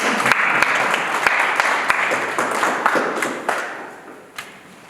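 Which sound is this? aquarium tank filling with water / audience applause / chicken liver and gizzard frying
audience applause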